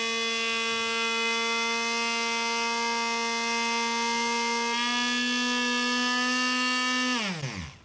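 A power polishing tool buffs compound on windshield glass with a loud, steady, close electric whine. The pitch steps up partway through, then drops quickly as the tool winds down and stops.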